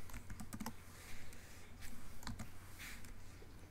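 Keys clicked on a computer keyboard for a Command G shortcut, a scattering of light, close taps in small clusters, quiet and dry with no talking.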